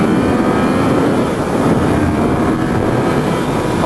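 A Yamaha MT-09 three-cylinder motorcycle engine drones steadily during a ride, loud and constant, with heavy wind rush mixed over it.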